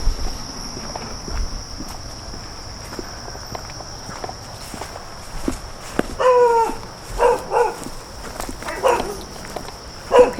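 Dogs kept in extremely poor, neglected conditions on a property bark in a few short bursts late on, over footsteps, insect chirring and a steady high whine.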